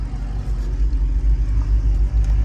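A first-generation Audi R8 with a V8 engine and manual gearbox, still cold from starting, rumbles loud and close as it pulls away, a deep throbbing low note with small surges.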